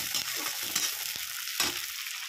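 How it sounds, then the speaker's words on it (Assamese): Onions fry in hot oil for a local chicken curry, giving a steady, close sizzle with a few soft stirring scrapes and no talk. "পিঁয়াজখিনি ভাজি লওঁ।"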